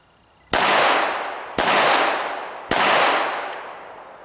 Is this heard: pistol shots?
yes